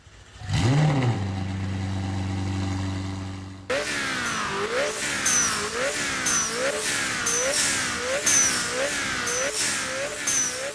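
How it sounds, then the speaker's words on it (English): McLaren 720S GT3 race car engine in the Roblox game Midnight Chasers, a brief rev from idle followed by rapid acceleration through repeated upshifts, each gear rising in pitch then dropping, loud and continuous. "the McLaren 720S GT3, a 600 horsepower GT3 car based on the 720S"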